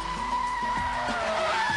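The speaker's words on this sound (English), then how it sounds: "Turn hard into a bend to get the back out, then catch the slide." Rear-wheel-drive BMW Z3 roadster sliding through a bend, tires squealing continuously over the engine's repeated revving pulses, heard close and moderately loud.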